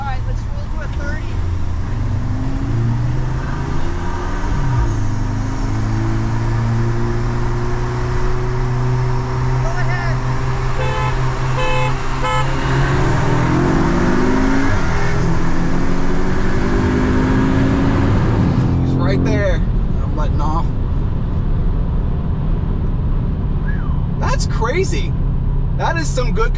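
Audi S3 8V and 8Y cars accelerate in a roll race from about 30 mph, engines droning and climbing in pitch through the gears, then dropping off into a quieter roar near the end.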